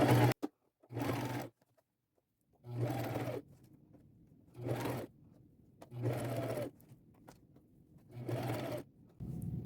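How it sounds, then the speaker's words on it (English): A sewing machine top-stitches the edge of a flap on a layered ruffle crossbody purse, running in about five short, close bursts with quiet gaps between them. "I'm just going around once with a straight stitch"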